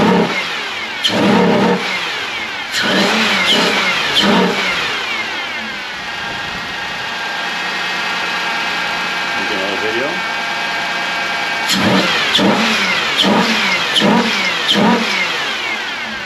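A 2005 3100/3400 engine swapped into a 1994 Pontiac Grand Prix SE runs at a steady, quiet idle with a couple of revs, while people talk nearby at intervals.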